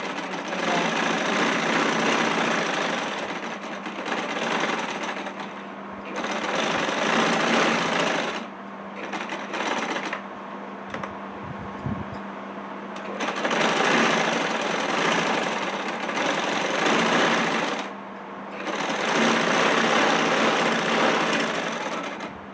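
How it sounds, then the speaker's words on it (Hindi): Sewing machine stitching the neckline of a kameez, running in several long steady bursts of about four to six seconds each with short pauses between, loud and close with no talk. "तो चलें अब हम लगाएंगे अपनी गले की सिलाई"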